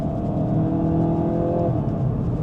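A VW Golf GTI Edition 50, the MK8.5 model, accelerates hard from inside the cabin, a loud steady engine drone and whir that climbs slightly in pitch, with no talking.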